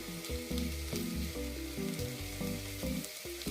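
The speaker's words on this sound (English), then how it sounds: "You want to make sure that the garlic gets cooked with the onions and carrots." Garlic frying with onions and carrots in a soup pot, a steady sizzle running throughout under a dense background.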